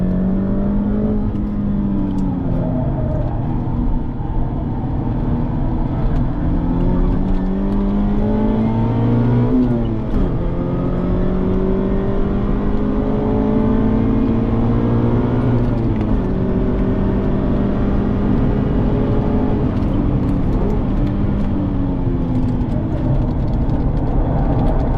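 A Mazda MX-5 Miata ND2 accelerates hard on a race track, heard from inside the car. The engine note climbs through repeated rising pitch sweeps as the gears change, loud and steady, with no talk over it.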